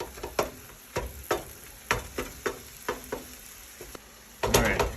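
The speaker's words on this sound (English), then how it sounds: "once you've flipped it and chopped it down like that" Ground beef, a 90-10 blend, sizzles in a skillet for taco salad while a spatula chops and flips it, giving repeated sharp scraping knocks about every half second over a steady frying hiss, ending in a louder burst of clatter.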